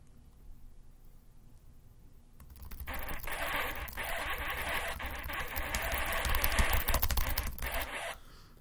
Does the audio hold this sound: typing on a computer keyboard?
yes